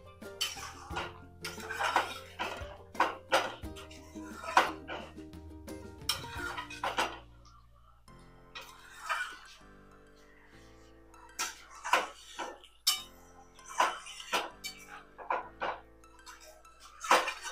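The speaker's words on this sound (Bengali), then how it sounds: "এবার আমি ভালো করে এটাকে নেড়ে নেব।" Mutton bhuna with grated nutmeg is stirred in a pot, a spoon clinking and scraping against metal in irregular bursts between quieter pauses.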